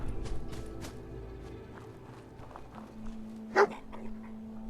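Dogmeat, the dog in the Fallout 4 video game, gives one short, fairly loud bark near the end after a stretch of quiet, steady game ambience with faint soft sounds.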